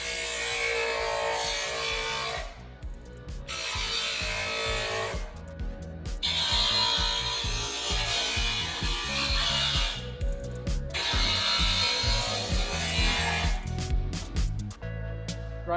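A handheld power tool grinds the edges of very thin material in a shop, a loud, high whining grind in several long bursts separated by brief pauses and short stuttering restarts.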